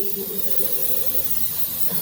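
Continuous hissing spray of brake cleaner from an aerosol can over a car engine intake during an intake replacement, close and steady for a couple of seconds.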